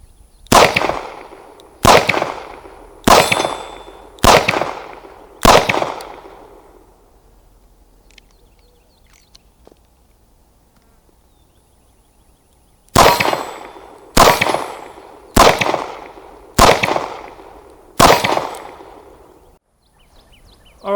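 A five-shot .38 Special revolver fires two strings of five loud, sharp shots each, evenly spaced about a second apart, with a quiet gap between the strings.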